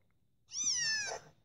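A single drawn-out meow from a cat creature in Pokemon Moon, bright, tonal, slightly synthetic, clear and close, rising then falling over about a second.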